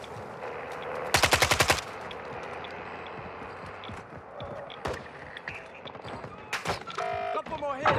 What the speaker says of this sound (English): It's like a hard-hitting SMG.